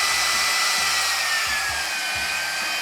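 GHD Duet Style hot-air hair straightener blowing with a loud, steady airflow whoosh and motor hum, and a faint high whine sliding slightly downward, close and continuous with no talking.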